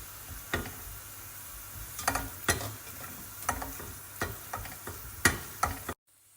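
Ground meat fries in a pan with a soft, steady sizzle, broken by a series of sharp utensil taps and scrapes at irregular intervals, close up, ending abruptly.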